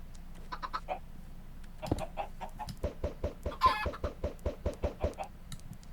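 Chickens in the farming game Animal Crossing: New Horizons cluck in a steady, evenly spaced run of short calls, with a few higher squawks early on and a brief louder burst midway, heard near and without speech.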